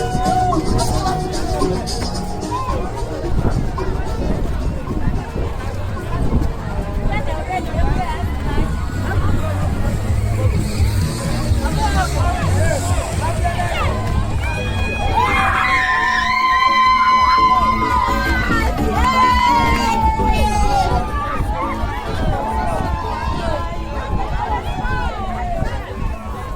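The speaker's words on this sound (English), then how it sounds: "Let's enjoy this crowd at 58 kilometers." Roadside crowd lining both sides of the course at the 58 km mark of the Comrades Marathon, a steady hubbub of cheering, shouts and whoops from spectators, loud and close, with voices calling out continuously.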